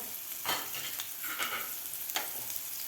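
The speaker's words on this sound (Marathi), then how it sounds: "आता व्यवस्थित आपल्याला हे वाटण परतून घ्यायचं आहे" Ground masala paste sautéed in a pan for horse gram shengole, a low sizzle under several distinct spoon scrapes and stirs, close and quiet, with no voices.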